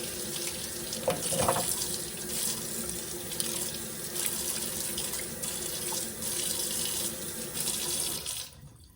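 Cold tap water running steadily into a sink over a block of clear ice, a constant close hiss and splash with a brief louder gush early on, stopping at the end.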